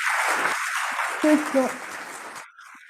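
An audience applauds at the opening ceremony of the African Youth Assembly 2021, a steady wash of clapping that runs for over two seconds before stopping abruptly, with a voice briefly heard over it.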